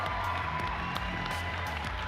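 Audience applause for the Borderlands 3 dev team, with one person clapping sharply into the microphone, producing loud, close, rhythmic claps over a softer crowd.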